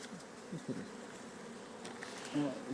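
Honeybees hum faintly at an opened beehive during a winter inspection, a low, quiet, continuous buzz with a few soft knocks from handling the frames.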